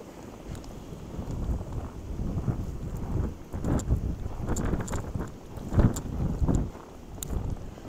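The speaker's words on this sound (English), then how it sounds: "we've got 60 mile an hour wind gusts" Strong wind gusts roar in freezing weather, about -2 degrees with 60 mph gusts, in a loud continuous rush of broadband noise that surges in repeated buffeting swells and batters the microphone with no voices.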